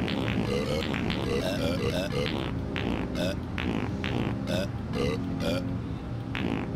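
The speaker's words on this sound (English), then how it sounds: "There's also a button for burping and farting" Repeated belches from a character in Grand Theft Auto 2, a burst of loud, rough eructations one after another over a busy game soundscape.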